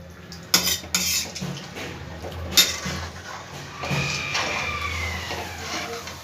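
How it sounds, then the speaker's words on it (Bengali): A spoon scrapes and clinks against a pan while raw banana kofta curry is stirred with spices, a few sharp metallic knocks followed by softer scraping over a low steady hum. "ভালো করে মশলার সাথে মিশিয়ে দেবো সব"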